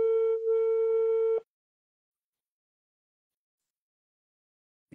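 A single telephone ringing tone sounds steadily for about a second and a half, then cuts off into silence, with a faint click at the very end.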